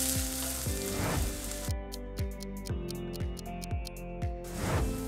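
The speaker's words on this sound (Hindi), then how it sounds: "मैंने प्याज ऑलमोस्ट 10 मिनट तक बहुत अच्छे से सिम पे भूने हैं" Onions fry in a pan over a low gas flame with a steady close sizzle, broken by a regular series of scraping stirs every half second or so.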